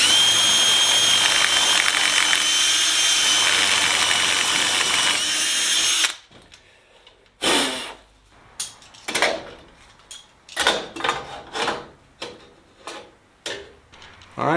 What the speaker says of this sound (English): I'll drill first and then I'll pull it out and deburr it.